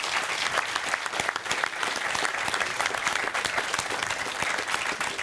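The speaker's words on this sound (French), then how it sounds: "On vous applaudit." An audience at a Corsican association evening gives sustained, crisp applause, many hands clapping at close range with no talking on top.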